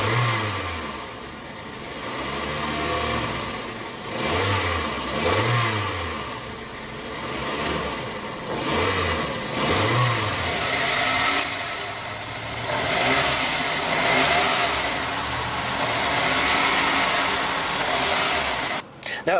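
A 1998 Toyota Corolla's 1.8-liter four-cylinder engine revved repeatedly, each blip rising and falling over a steady idle, heard close with broad road-like noise throughout.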